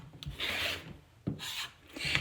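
Quilt panel fabric is trimmed with a few rough, rasping strokes close by, each lasting about half a second with short pauses between.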